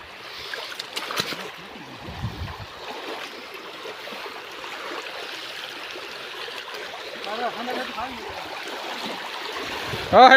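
Floodwater pours out of waterlogged farm fields during heavy monsoon rains, a steady broadband rush of flowing water heard close by, with a louder surge right at the end.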